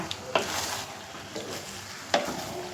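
Stirring a soy sauce dish in a pan: a soft steady sizzle underneath, broken by three sharp scrapes and clinks of a utensil against the pan, the last one loudest, with no talking.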